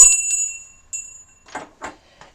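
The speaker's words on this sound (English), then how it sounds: "I have another bell, little travel bell" A small travel bell rings with a clear, high metallic tone, struck once or twice and left to fade, then light handling knocks follow in a quiet room.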